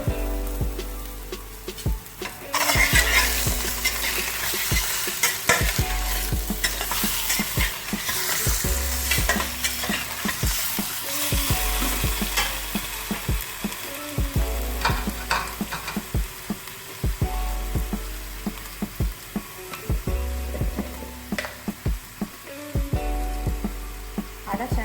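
About 1.5 kg of chicken fries in hot oil in a karahi and is stirred, a steady sizzle broken by regular scraping stirs close up, with no talk.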